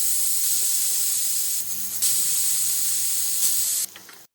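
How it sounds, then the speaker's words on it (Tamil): A pressure cooker of mutton for biryani vents steam with a loud, continuous hiss that wavers briefly midway and then cuts off near the end. "7 விசிலுக்கு அப்புறமா குக்கர் சைட்ல வச்சுட்டு"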